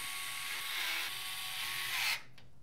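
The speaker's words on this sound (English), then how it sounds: "we can then secure everything into place using the short radiator screws at the top" Electric screwdriver driving short radiator screws into the top of an InWin F5 PC case to mount an AIO cooler, a close, loud whirring buzz for about two seconds before cutting off abruptly.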